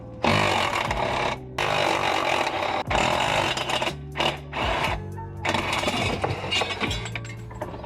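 Loosening the trailing arm on a BMW E36 during subframe reinforcement work gives loud, close mechanical whirring and clattering in long bursts, broken by short pauses, with no talk.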